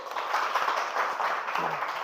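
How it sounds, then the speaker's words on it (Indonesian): A class of students applauding in a classroom lesson, a steady wash of many hands clapping together at moderate level, with faint murmur underneath. "Oke, tepuk tangan semua dulu."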